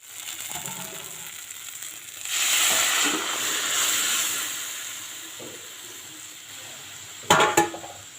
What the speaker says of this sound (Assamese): এতিয়া আমি ইয়াতে দাইলখিনি ঢালি দিম।